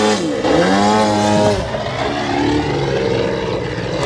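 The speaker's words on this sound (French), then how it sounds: "Donc là, on ralentit l'avion et on vient s'aligner." A large remote-controlled model airplane, around 2.8 m tall, throttles back to line up for landing: a loud, close propeller engine whine that slides down in pitch, then settles into a steadier, lower drone.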